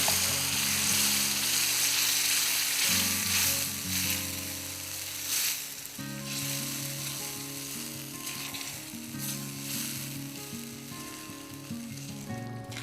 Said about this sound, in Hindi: अब मैं डाल दूँगी इसके अंदर ये ग्रेवी जो हमने प्रिपेयर करी थी।